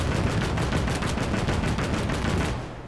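A German flak gun in the World War II game Gates of Hell: Ostfront firing rapid continuous bursts, dense and loud for nearly three seconds before tailing off, with no talk.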